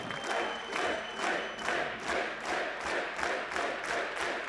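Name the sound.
crowd cheering and applauding at DreamHack esports match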